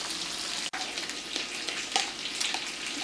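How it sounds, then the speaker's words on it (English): Bacon sizzles and crackles steadily in a hot pan, close and continuous, with a brief dip in the frying noise. "let's get our bacon to sizzle up"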